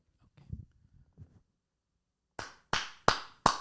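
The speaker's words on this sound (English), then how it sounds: "You should put your mic down and do a clap." Sharp, close hand claps, four in a row at an even pace, used to sync audio, following a stretch of soft murmured talk and a brief silence.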